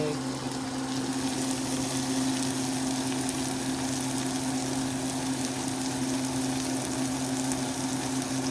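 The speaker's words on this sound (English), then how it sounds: "Saute for 10 to 15 minutes or so." Bitter melon sautéing in a pan with tomatoes, garlic and onion, giving a steady, dense sizzle with an even hiss throughout, close and moderately loud, under a faint steady hum.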